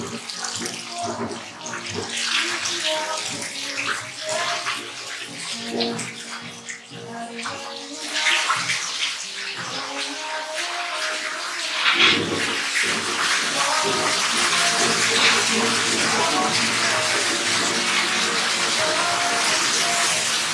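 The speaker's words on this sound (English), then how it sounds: "Like the waterfall's refilling or something." Indoor waterfall refilling in a model home: a steady, loud rush of splashing, running water that grows fuller and more constant, with brief faint voices underneath.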